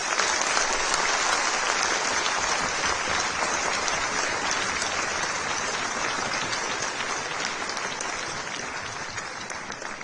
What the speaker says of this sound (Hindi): एक बार ताली बजा के उनका स्वागत करें